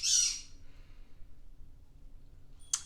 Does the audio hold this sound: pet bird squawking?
yes